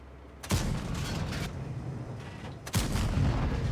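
Tank cannon fire in World of Tanks: two heavy booming shots about two seconds apart, each followed by a long rumbling decay, loud and close.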